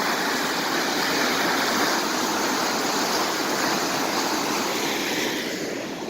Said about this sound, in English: See all this water flowing?